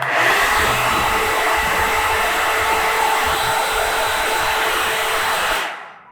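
Alan Truman blow brush hair dryer running on its highest setting, a loud steady whooshing whir held for several seconds before switching off and cutting to silence.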